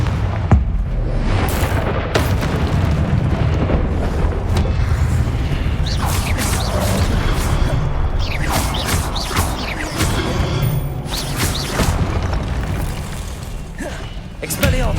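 Fire spell blasts from Hogwarts Legacy burst repeatedly amid loud, busy combat, with several sharp booms and crackling impacts over dense rumbling noise, plus shouted voices mixed in.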